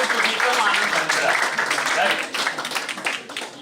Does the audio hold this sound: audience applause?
yes